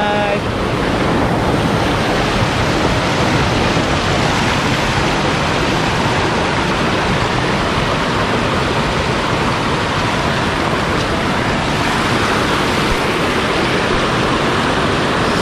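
Baobao Falls rushing as a dense, steady roar of falling water, loud and close, filling the whole stretch without a break and with no voices over it.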